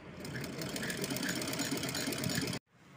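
A sewing machine stitches ribbon onto a small doll dress with a rapid, steady mechanical whirr close up, then cuts off abruptly just before the end.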